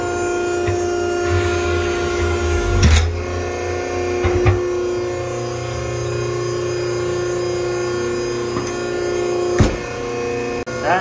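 A vac truck pumps manure through a 6-inch pipe, a steady loud mechanical drone with a constant hum throughout, broken by a few sharp knocks and thumps.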